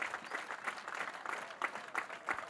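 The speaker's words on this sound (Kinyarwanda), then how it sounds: "Amashyi menshi cyane." Congregation applause at a Sunday church service, quiet and somewhat distant clapping with a loose rhythmic pulse throughout.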